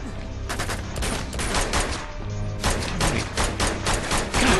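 Gunfire in the video game Uncharted 2: Among Thieves: dense, sustained bursts of automatic shots, loud and close, broken by a brief lull midway before firing resumes.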